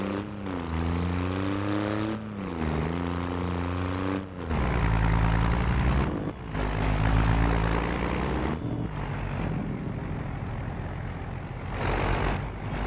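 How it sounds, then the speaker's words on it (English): Harvesters and trucks run in Farming Simulator 25, a loud, close engine drone with a humming harmonic whine that rises and dips in pitch, broken by a few short drops before the rumble swells again. "Like running harvesters. The harvesters are loud too."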